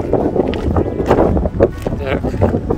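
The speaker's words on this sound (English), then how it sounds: "it is windy today" Wind gusts buffet the microphone along a back-country overlanding route near Upper Ouachita National Wildlife Refuge in Arkansas, a loud rumbling roar that rises and falls.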